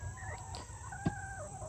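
Young chickens kept apart from the flock cluck and chirp softly, a few faint, close calls over quiet background hiss.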